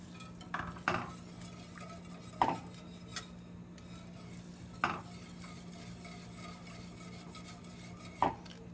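A spoon scrapes and clinks against a pot while cheese is stirred into a homemade mac and cheese sauce, in several separate, sharp metallic strokes spaced a few seconds apart over a quiet kitchen background.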